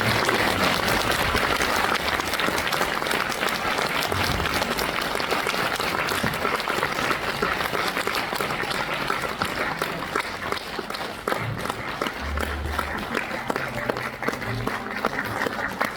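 An audience at a film festival interview event in Suncheon breaks into sustained, dense applause, a steady wash of clapping heard throughout at an even level.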